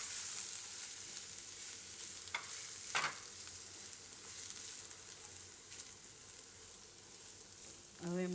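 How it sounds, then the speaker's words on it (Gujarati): Ground peanut powder fries in hot oil for a Gujarati raw banana and peanut khichdi, giving a steady soft sizzle with a few scraping stirs and a louder clatter near the end. "એટલે આ રીતે તેલમાં નાખીએ એટલે એકદમ શેકાઈ જાય તેલમાં આપણે આ ભૂકો"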